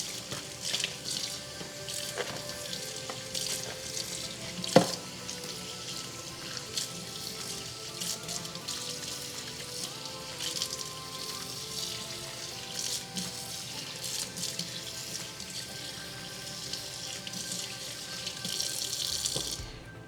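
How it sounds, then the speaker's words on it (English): Tap water runs steadily into a sink as conditioner is rinsed from a curly clip-in hair weft, a continuous close splashing rush with small drips and knocks, no talking. "I'm gonna rinse this top just to make sure I got the conditioner off the top of the weft"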